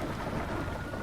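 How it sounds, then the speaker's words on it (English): Heavy rain pours down with a rumble of thunder, forming a dense, loud, unbroken roar of falling water and low rolling thunder with no voices. "it's raining so hard it hurts."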